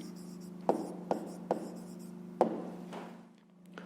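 A pen writes an answer on paper, giving soft scratchy strokes punctuated by four or five sharp little taps as it touches down, close and quiet over a faint steady hum.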